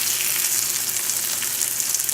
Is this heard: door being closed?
no